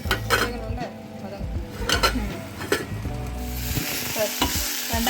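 Okra sautéing in a pan for mor kuzhambu, a continuous sizzle broken by repeated clinks and scrapes of a metal spoon stirring against the pan, close and fairly loud.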